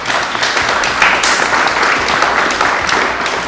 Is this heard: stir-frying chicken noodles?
no